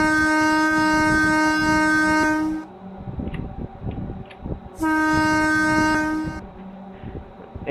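A 203 series transit train in a video game sounds two long, loud horn blasts a few seconds apart, steady and close, with rumbling rail and engine noise running beneath and between them.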